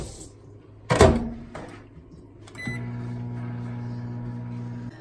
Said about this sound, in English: just came out of the microwave